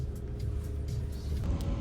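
A car driving along a road, with a steady low engine drone and road rumble throughout, close and continuous with no talking.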